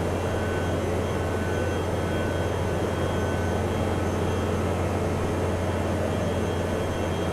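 In Microsoft Flight Simulator 2024, a powered parachute engine drones steadily in flight, a constant low hum with faint whooshing air and no change across the whole stretch.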